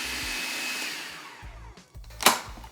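A kitchen blender purees plantain pieces with a loud, steady motor whine that wavers as the load shifts, then breaks into short pulsed bursts and a brief high surge near the end. The clip has no talking.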